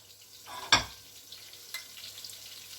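Soaked sandwich bread frying in a pan over medium heat, a soft low sizzle with one sharp close clatter near the start and a lighter knock later, fairly quiet and without voices.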